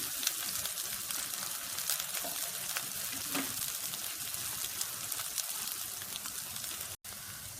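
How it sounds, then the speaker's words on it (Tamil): Onions and green chillies sautéing in hot oil with mustard seeds for vegetable cutlet filling, giving a steady, fairly quiet sizzle throughout with faint crackles and a brief dropout near the end. "இப்போ வெங்காயம் பச்சை மிளகாயும் போட்டுருங்க. நல்லா வதங்கட்டும்."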